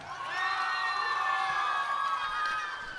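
A concert crowd cheers and whoops for the bass guitarist at a high school rock and roll show, a loud sustained roar of many voices that swells and slowly tapers over a few seconds.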